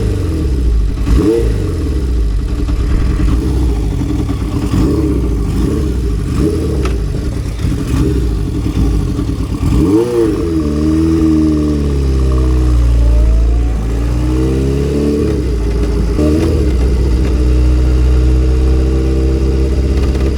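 A Honda CB750 cafe racer custom motorcycle engine runs loud and close, idling roughly with repeated throttle blips and a couple of sweeping revs rising and falling, no one speaking.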